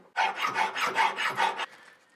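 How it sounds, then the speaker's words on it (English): Hand file rasping across a cast metal ingot made from scrap, smoothing its rough surface and mold line: about five quick, even back-and-forth strokes, close and clear, then the stroking stops. "I'm just going to file it and just remove that rough surface. I'm also removing that mold separation line."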